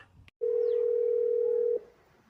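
A steady telephone dial tone, a single pure continuous note lasting about a second and a half, loud and close, starting after a short click and ending abruptly.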